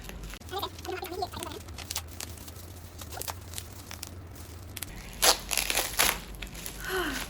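Sturdy packaging around a small notebook being opened, with close crinkling, crunching and tearing of material in bursts, louder rustles near the end, and no talk.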